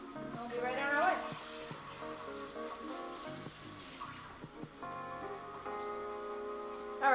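Food sizzles steadily in a hot pan on a home stove while asparagus cooks, a continuous hiss with faint clinks beneath background music.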